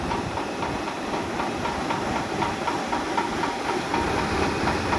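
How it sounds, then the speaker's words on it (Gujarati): A homemade blower mounted on a Sonalika tractor sprays pesticide over pomegranate plants, producing a loud, steady rushing hiss with an engine drone beneath it, continuous and close. "આ આપણે દેશી બ્લર બનાવ્યો છે દાડમમાં દવા છાંટવા માટે"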